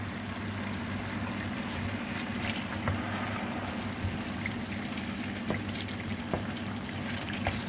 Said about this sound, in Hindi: टमाटर्स को हम लोग मिक्स कर लेते हैं इसके अंदर